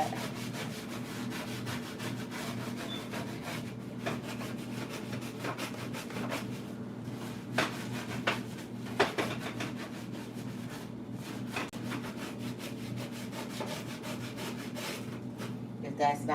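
A hand steadily rubs a surface back and forth in a continuous, fairly loud scrubbing friction with a few sharper scrapes along the way, and nobody speaks.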